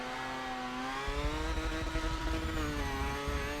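A Mazda RX-7 engine in the Forza 7 racing game revs loud and raspy, climbing in pitch with a rough, pulsing exhaust rattle that grows after the first second, heard close and alone.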